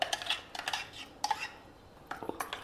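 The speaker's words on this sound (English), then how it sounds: "We will remove it into a bowl." Ground chutney being scraped from a grinder jar into a bowl, heard as a series of light spoon clinks and scrapes against the vessels, close and fairly quiet, with no talking.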